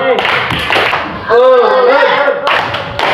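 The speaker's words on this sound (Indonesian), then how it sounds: "Ice breaking pada kesempatan ini kita akan melakukan tepuk anak saleh." A classroom plays the tepuk anak saleh clapping rhythm game, with sharp bursts of group hand claps in a patterned beat alternating with voices chanting and speaking loudly nearby.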